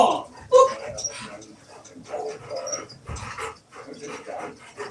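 A small dog whimpering and yipping in a home, with intermittent whines and soft cries, near and moderately loud, mixed with brief human voices.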